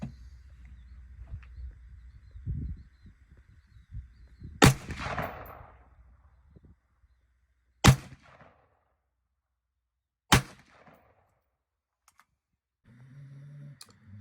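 Three sharp, loud reports from a stock Bushmaster 5.56 rifle with iron sights, firing Absaroka Valley ammunition at a 100-yard range, spaced a few seconds apart with near silence and faint handling noise between them.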